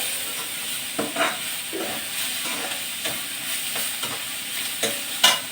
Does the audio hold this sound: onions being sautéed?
yes